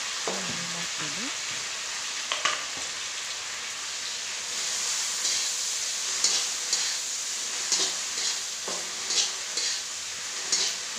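Crab with roselle leaves frying in a pan, a steady rain-like sizzle heard close, broken by periodic scraping stirs and clinks of the utensil against the pan.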